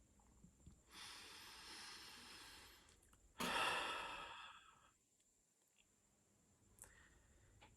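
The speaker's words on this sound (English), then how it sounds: "Let's just take a deep breath together." A slow, deep breath in and then out taken during a guided meditation, soft and close with a long airy inhale, a stronger exhale, then quiet.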